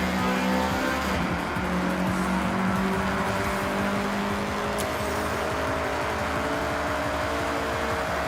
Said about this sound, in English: get the CRX up to speed